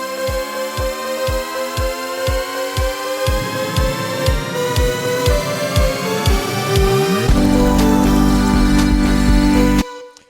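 A steady kick drum pulse in a Jingle Bells remix intro grows louder, joined by rising synth tones that swell upward, then a heavy impact hit before cutting to silence.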